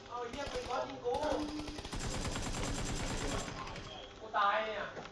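Sustained automatic rifle fire in a PUBG match, a rapid even stream of shots lasting a couple of seconds, with Thai-speaking players' voices before and after the burst.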